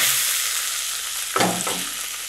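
Onions sizzle steadily in hot oil in a pan for paneer butter masala, a dense continuous frying hiss with a brief louder burst of stirring scrapes near the end, no voices.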